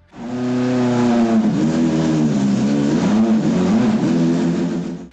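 Alfa Romeo Carabo with a 2.0-liter V8, its engine revving loud and close in a sustained, wavering note that rises and dips over several seconds before cutting off.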